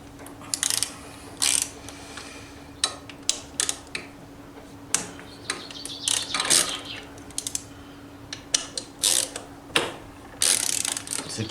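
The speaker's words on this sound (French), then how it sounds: "vous pouvez donc retirer les trois vis de fixation de votre pompe à eau" Ratchet clicking in bursts while the three fixing screws of a scooter's water pump are undone, with metallic taps and small parts clinking between runs, close and fairly loud.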